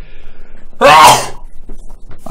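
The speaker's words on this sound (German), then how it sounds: "Ich muss gleich mega niesen" One loud, sharp human sneeze bursts out, preceded by quiet background sounds from a game and followed by faint murmuring.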